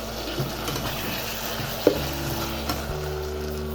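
Chicken manchurian mixture is stirred in a pan after lemon juice goes in, producing a soft continuous sizzle with a low steady hum underneath and one brief clink of the spoon midway.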